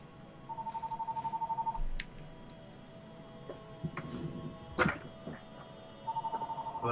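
A telephone rings in the background of a room with two bursts of a trilling electronic ring, fairly faint, separated by scattered clatter and knocks.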